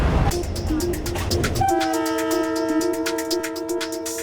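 A Philippine National Railways passenger train rumbles close by, then a long steady horn blares and holds over the rolling noise of the cars.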